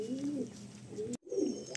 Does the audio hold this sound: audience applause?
no